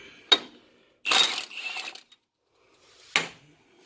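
A pink impact wrench removes an engine bolt from a Troy-Bilt lawn mower, sounding as a few sharp, close bursts of rattling hammering with pauses in between, and no talk over them.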